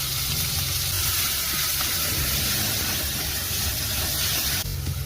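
Onions frying in hot oil with whole spices and salt, a loud, steady sizzling hiss filling the whole span without pause.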